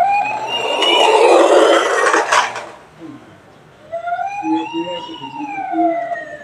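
A toy ambulance plays its siren, loud and close, with a wailing electronic tone. A softer, rising and falling warble follows after a short dip, and a voice is talking over part of it.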